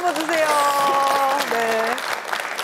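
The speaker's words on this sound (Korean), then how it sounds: "박수 한번 주세요." Studio audience applause for a young trot singer on a Korean TV talk show, steady clapping for about two seconds under a sung or drawn-out voice, then thinning out.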